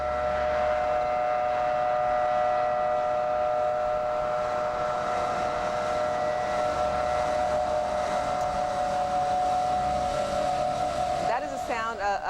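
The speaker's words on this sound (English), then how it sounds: "Of the sirens that you would hear throughout Kuwait City" Air raid sirens wail across Kuwait City at midnight during the Iraq War, a steady sustained distant tone holding for over ten seconds before a brief warbling shift near the end.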